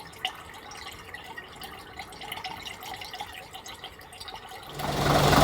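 A watering can pours a 50-50 coolant mix into the radiator of a Routemaster double-decker bus. Faint drips and trickles come first, then a louder steady gush of liquid near the end.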